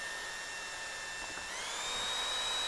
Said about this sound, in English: So we'll mix it up for about 2 minutes or so with our drill and our mixing paddle